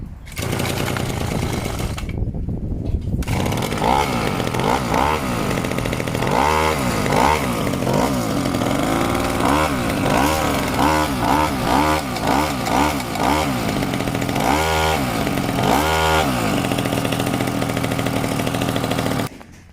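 A gasoline brush cutter engine runs continuously and loudly up close after a carburetor adjustment, buzzing high and revving up and down in repeated bursts with no pause.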